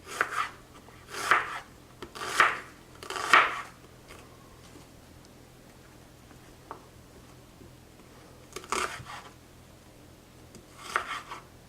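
A knife cuts onions on a board for Uzbek plov, a few bursts of rasping, rhythmic slicing strokes close by, separated by quiet pauses, with no voices.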